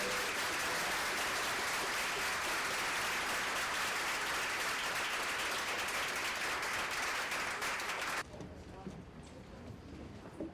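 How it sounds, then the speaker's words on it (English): Steady, dense applause from an audience at a Cambridge city council candidate forum fills the room for about eight seconds, then drops abruptly to a quieter hum of room noise. "We'll have to give a round of applause to..."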